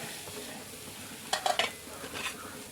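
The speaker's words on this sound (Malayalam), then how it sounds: "നമുക്ക് തേങ്ങ നന്നായി വറുത്തെടുക്കാം" Grated coconut is being roasted in a pan, with a soft dry sizzle and a few quick scraping stirs of a spoon against the metal.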